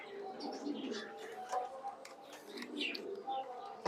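Maltese pigeons, including young birds from one pair, coo softly in a farm loft, with scattered chirps and bird calls over a steady low background at close range.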